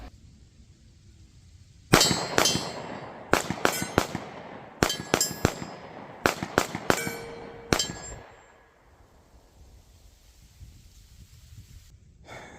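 A Springfield Hellcat and a Sig Sauer P365 fire 9mm rounds rapidly at an outdoor range, about a dozen sharp, loud cracks in quick bursts over roughly six seconds, each with a short ringing tail, then quiet.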